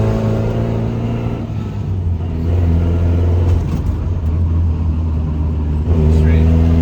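Suzuki Samurai engine droning loud and close while driving, a steady low rumble with small rises in revs, and people talking over it.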